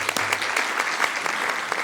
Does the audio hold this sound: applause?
yes